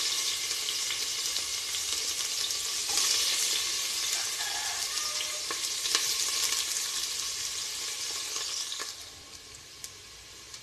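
Mustard seeds, curry leaves and onion fry in hot oil for sambar rice, giving a loud, dense, steady sizzle with light stirring that eases off near the end.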